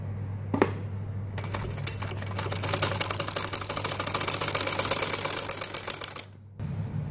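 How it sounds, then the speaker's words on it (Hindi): Electric sewing machine double-stitching the hem of a kurti, a close rapid mechanical rattle running steadily for several seconds before stopping, over a low motor hum. "ये मैं अब इसकी डबल सिलाई लगा रही हूँ"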